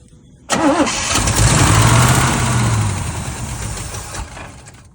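An old 1967 Chevrolet C10 truck engine cranks and catches with a loud roar, then settles into a rough, rumbling idle that gradually eases off.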